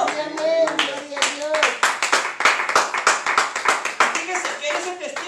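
A church congregation claps together in a Spanish-language service, a loud, rapid, sustained burst of many hands lasting several seconds, with a few voices mixed in.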